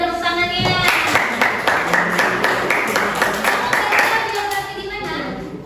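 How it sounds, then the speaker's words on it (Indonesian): Students in a classroom clap together in a burst of rapid, fairly close applause that holds for several seconds before thinning out, with a teacher's voice and children talking around it. "Berikan tepuk tangannya."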